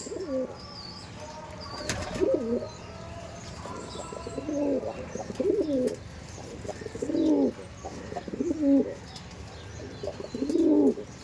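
Madrasi pigeons coo in a repeated series of soft, throaty phrases at a steady rhythm, fairly close, with faint background noise between calls.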